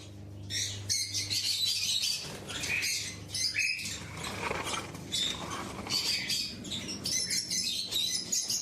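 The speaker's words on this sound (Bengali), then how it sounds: "এই হচ্ছে আমার ককটেল" Cockatiels and conures in a farm aviary give off busy, overlapping chirps and squawks that run through the whole stretch, with some wing flutter and faint rustling among the birds.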